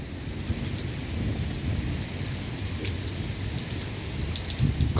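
Heavy torrential rain pours steadily during a lightning storm, a dense close hiss with low rumbling underneath that holds at a constant level throughout, with no voices.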